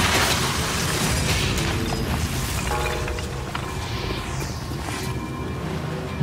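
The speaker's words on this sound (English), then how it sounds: "An explosion?" A video-game explosion in Bioshock Remastered gives a dense, roaring burst of noise that fills the whole clip, slowly easing but staying loud and rumbling throughout with faint mechanical clatter.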